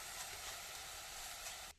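Tamarind water poured into hot mustard oil in a pan gives a steady, dense sizzle and hiss that holds evenly and cuts off abruptly at the end.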